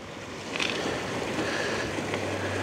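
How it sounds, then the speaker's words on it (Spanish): Water of the Guanabal river runs downstream in a steady broadband rush outdoors, with a couple of faint splashes or knocks, no voices. "Ahí va el río hacia abajo"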